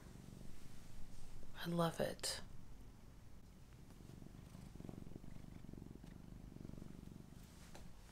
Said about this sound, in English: What is it about cat purring that just